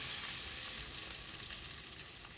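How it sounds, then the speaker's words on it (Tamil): Hot tempering poured into restaurant-style sambar gives a steady, loud sizzle of frying spices that holds evenly throughout with no talk. "இப்போ பார்த்தீங்கன்னா தாளிச்ச இதை வந்து நான் இதோட சேர்க்கிறேன்"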